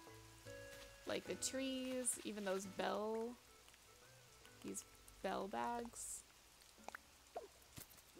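Soft, steady rain patters in the video game Animal Crossing New Horizons, a faint continuous hiss under a voice talking and occasional chimes and game sounds.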